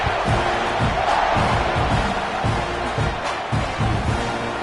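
A packed football stadium crowd at a Texas A&M versus USC game roars loudly and continuously, with rhythmic surges that suggest chanting running through the dense wall of cheering.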